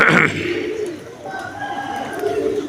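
Pigeons coo and flutter on a rooftop in Dhrampura, with a soft burst of sound at the start followed by steady low murmuring coos mixed with faint background activity.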